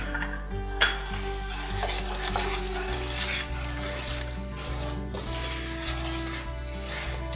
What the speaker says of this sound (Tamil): இதில் நான் 100 gram ரவா வந்து ஆட் பண்ணிக்கிறேன்.